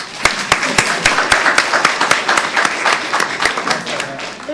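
Audience at a county board of commissioners meeting applauds, a steady crowd clapping with sharp individual claps standing out, fairly loud and continuous throughout, with no talk over it.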